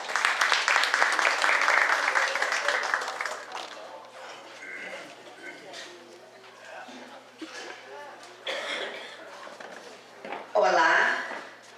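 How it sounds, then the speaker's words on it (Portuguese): Applause from an audience at a ceremony at Renascença Clube. A burst of dense clapping lasts about three seconds, then gives way to a speaker addressing the room, with a brief rise of claps near the end. "Maria José Moura dos Santos, por favor, uma salva de palmas."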